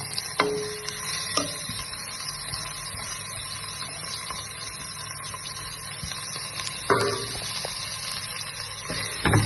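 Two medium chopped onions frying in a pan with bay leaf for a coconut milk biryani give a soft, steady sizzle, broken by a few faint stirring clicks and scrapes.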